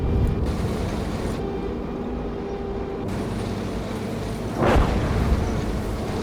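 Artillery shells detonating in the Gunner Heat PC tank game, a sustained rumbling roar with a sharper burst of impact near the end, loud and close with no talk over it.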